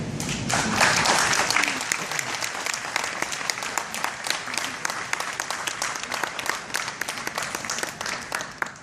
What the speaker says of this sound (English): Okay, so one more applause for the manufacturer.